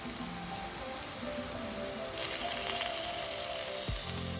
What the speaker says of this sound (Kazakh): Баклажандарды судан шығарып, кептіріп, енді қызып тұрған табадағы майға жақсылап сарғыш ретінде қуырып аламыз.